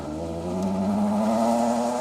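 A BMW Compact rally car with a 2.8 litre straight-six engine holds a steady, loud rev with a rising harmonic engine drone on a rally stage.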